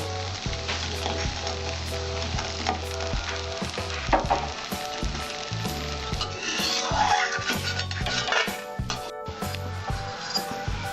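Bori lentil dumplings frying in oil, with loud, steady sizzling and crackling close up that runs throughout, along with occasional stirring.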